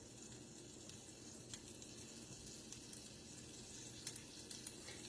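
Steady, faint sizzling of pork frying in a pan, with occasional soft crackles and pops.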